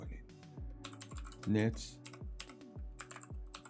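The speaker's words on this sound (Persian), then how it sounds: "این چیزی که من می نویسم رو شما هم تایپ کنید." A PowerShell command is typed on a computer keyboard in a quick run of crisp, close keystrokes, with irregular gaps between clusters and a brief spoken word near the middle.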